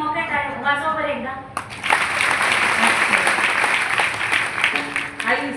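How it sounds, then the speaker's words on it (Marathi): A kirtan audience in Selu breaks into broad, steady applause after a brief sung or spoken phrase. The clapping stays dense and loud until the end. "मोकळ्या टाळ्या वाजवा बरं एकदा"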